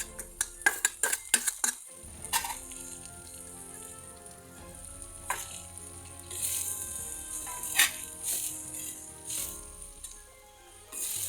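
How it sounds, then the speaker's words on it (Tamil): A utensil stirs chopped bottle gourd and onions in a metal pan, with a quick run of sharp clinks and scrapes at first, then slower scraping over a light sizzle, close and alone. "கட் பண்ணி வச்சுருக்கிற சுரைக்காய் அதில் போட்டு நல்லா கொஞ்சம் நேரம் அப்படியே நிதானமாக பிரட்டி விடணும்"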